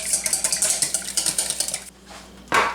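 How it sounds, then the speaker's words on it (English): An egg being whisked with buttermilk in a bowl, the whisk making quick rhythmic clinks against the sides in a steady run, then a short pause and one louder scrape at the end. "Let's whisk the 1 egg with our 1/3 cup of buttermilk."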